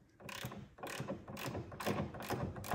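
Breaker bar ratcheting on a front wheel hub nut of a 2006 Porsche Cayman S 987 during bearing replacement, giving several loud, close clicking and grinding bursts in uneven succession.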